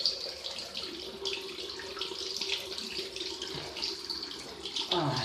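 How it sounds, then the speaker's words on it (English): Cold water runs steadily from a bathroom tap during a wet shave, a soft hissing splash that continues throughout at low to moderate level with faint fluctuations. "when you put cold water on"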